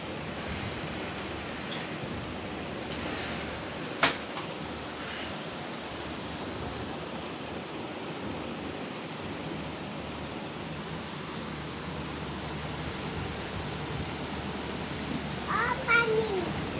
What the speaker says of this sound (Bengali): অনেক জোরে বাতাস